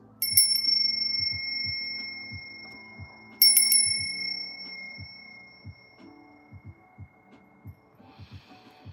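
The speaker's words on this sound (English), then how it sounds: "I'm about to ring this bell" A small bell rung twice, each strike a bright, sustained ring that slowly fades, over a soft, low rhythmic throbbing in a quiet room.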